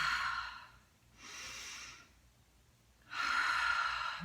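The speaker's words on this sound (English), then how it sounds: "So it's this breathing that goes out to the sides" Bellows Breath (Bhastrika) yoga breathing: three forceful breath strokes, an exhale, an inhale and another exhale, each a breathy rush of air, close and clear with quiet gaps between and no talk.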